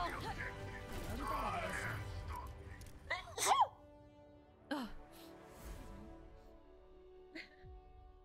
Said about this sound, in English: It's a serious sneeze.